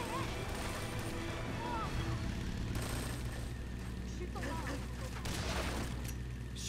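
Gunfire in Metal Gear Solid 3: Snake Eater, a steady dense roar of continuous shooting and crashes running through the whole stretch with little variation, mixed with game sound effects.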